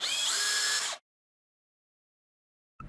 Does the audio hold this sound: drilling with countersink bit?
yes